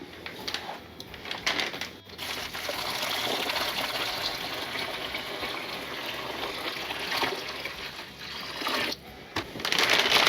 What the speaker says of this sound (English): Now what I like to do is I like to pour in 1 gallon and mix it up.